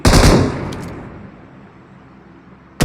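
Gunfire in a battle royale video game match: a loud, close burst of shots that quickly fades into a decaying echo, followed by another sharp burst at the very end.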